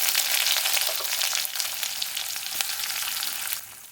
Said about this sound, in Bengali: তার জন্যে দেবো একটু তেল দেবো পাঁচফোড়ন তো একটু পেঁয়াজ